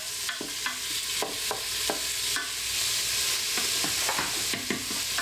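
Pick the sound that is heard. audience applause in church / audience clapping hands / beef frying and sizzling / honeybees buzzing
beef frying and sizzling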